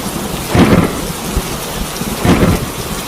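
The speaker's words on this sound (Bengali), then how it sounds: "তার পরের দিনই গ্রামে এক বিশাল ঝড় হলো।" Thunderstorm over a village in a cartoon, heavy rain hissing steadily while two loud, booming thunderclaps roll through, one early and one later, close and forceful.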